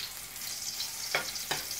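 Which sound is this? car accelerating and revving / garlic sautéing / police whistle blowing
garlic sautéing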